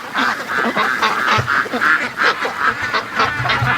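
A flock of free-range ducks honking and quacking repeatedly in quick, overlapping calls, fairly close and loud, with no talking.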